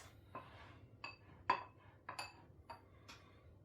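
Soft kitchen clinks and scrapes as ingredients are stirred into a flour mixture for homemade circus animal cookies, a series of separate utensil taps against a bowl, fairly quiet and without talk.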